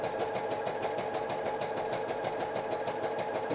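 A sewing machine stitches fabric at a steady fast rhythm, its needle chattering continuously, close and even throughout.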